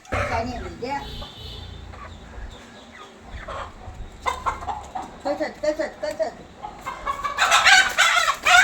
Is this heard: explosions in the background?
no